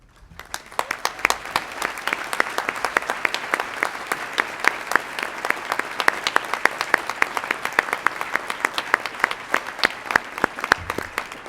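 A large audience at a College of Agricultural Sciences commencement ceremony claps in sustained applause, many distinct hand claps crackling within a steady roar that fades in at the start and carries on at length.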